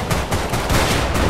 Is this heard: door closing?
no